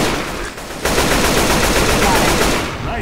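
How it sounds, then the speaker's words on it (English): Rapid automatic gunfire from several weapons in the video game Left 4 Dead 2, in Survival mode on the Death Toll church map. The shots form a dense, loud, continuous barrage with a brief dip near the start. "Nice shooting."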